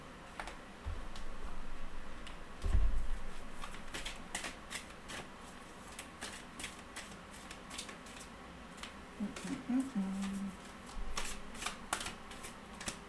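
Soft, scattered clicks and riffles of oracle cards being shuffled by hand, quiet and close, with a brief low thump partway through.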